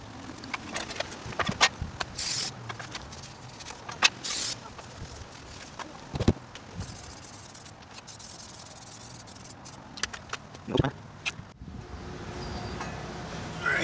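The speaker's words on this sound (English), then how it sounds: "so sorry about the wind, but" Wind gusts outdoors across a microphone during a Ford Panther platform five-speed swap, producing fairly faint, uneven rumbling and buffeting with occasional sharper knocks and handling noises, and no clear talking.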